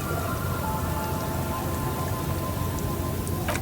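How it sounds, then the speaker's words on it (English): Steady rain patters densely on water in the video game Disco Elysium, a constant hiss with no voices or other sounds. "There are rain circles on water all around."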